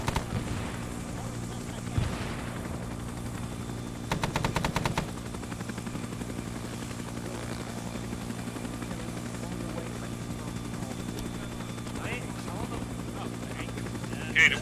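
In Arma 3, a helicopter's rotor drones steadily throughout, and a brief burst of machine gun fire cracks out near the middle. Occasional other bangs sound over the thrum, with voices talking.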